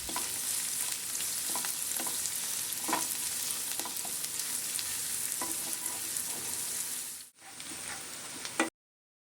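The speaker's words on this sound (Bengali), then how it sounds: "এর মধ্যে দিয়ে দেব পেঁয়াজ কুচি আর কাঁচা লঙ্কা কুচি। এটা খুব ভালো করে আমি ভেজে নেব।" Chopped onion and green chilli fry in hot oil, a continuous bright sizzle broken by regular scraping stirs, with a brief dip near the end before the sound cuts out abruptly.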